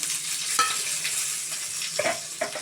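Mustard seeds and chilli powder crackle and sizzle steadily in hot oil with small popping bursts, close up and fairly quiet, with no voices.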